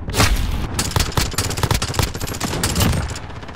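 Rifle gunfire in Call of Duty Modern Warfare, a loud dense fusillade of many overlapping shots and booms that carries on without a break.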